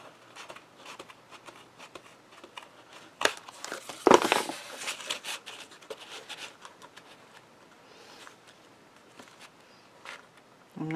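Paper cards for a handmade butterfly card being trimmed, with soft crinkly cutting and rustling that turns into a louder burst of scraping around the middle, then lighter paper handling fading out.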